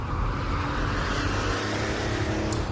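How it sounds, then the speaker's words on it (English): Continuous air-cooled six-cylinder engine drone with a gravelly, throaty note, steady and fairly loud, heard from inside a moving 30-year-old car. "listening to the cackle of that wonderful air-cooled six-cylinder engine"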